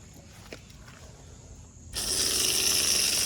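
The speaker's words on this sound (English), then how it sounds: "we've got DC load on and the water pump on" A 12V water pump running in a Nissan Patrol switches on after a quiet stretch: a sudden loud, steady rushing hiss of pumped water that carries on without a break.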